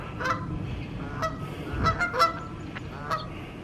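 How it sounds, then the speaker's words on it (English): Several geese honk nearby in short bursts, a few calls overlapping, over a low steady background rumble. "We got some geese over here."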